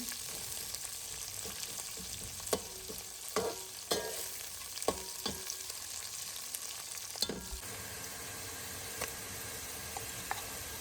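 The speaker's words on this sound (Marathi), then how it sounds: "तेलामध्ये तेल गरम झाल्यानंतर खडे मसाले टाकले. नंतर 1 कांदा उभा चिरलेला टाकलेला आहे" Whole spices and a sliced onion frying in hot oil for rice, with a steady close sizzle and hiss broken by a series of scraping stirs and clinks from a spoon against the pot, and no talk.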